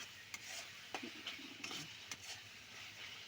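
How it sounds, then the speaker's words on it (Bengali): Masala being stirred and fried in a pan after a splash of water, with quiet sizzling under repeated scraping strokes of a spoon against the pan, a few sharp clinks spaced through the short stretch. "জল দিয়ে আবার একটু কষছি।"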